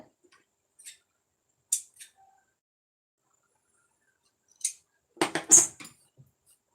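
Lining fabric for a blouse sleeve being cut with scissors, a few sparse, crisp snips and light rustles against near silence, with a short cluster of louder cuts toward the end.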